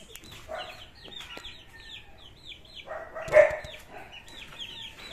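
Hen and red junglefowl rooster clucking in a repeated, fairly close series of short calls, with faint bird chirps in the background and one louder squawk near the middle.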